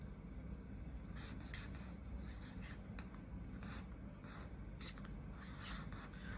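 Pen or pencil writing in a copybook, soft scratchy strokes in short irregular bursts, close but quiet, with no talking.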